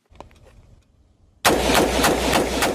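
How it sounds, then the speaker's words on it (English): Semi-automatic rifle shots ring out after a quiet lead-in: a loud, close run of about five sharp reports in quick succession, each with a ringing tail, with no talking. "I'm going to fire about 5 shots. Full semi-automatic."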